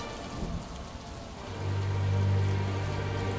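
Heavy rain pours down steadily in a thunderstorm, and a deep low thunder rumble swells in about halfway through and holds to the end.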